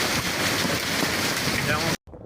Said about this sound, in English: Grandina tutto, nebbia d'acqua, non si capisce niente.